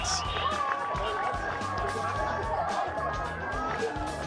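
Crowd roars and cheers after a goal at an under-16 boys' junior Australian rules football match between South Launceston and Prospect, a steady wash of noise under a commentator's continuous talk.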